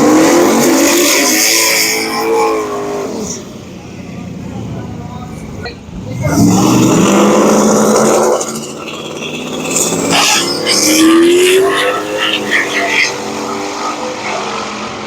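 A Ford Ranger with blown head gaskets and a Neon on big tires race past during a multi-day endurance driving event, their engines surging loud and close, fading and returning, while someone talks over them.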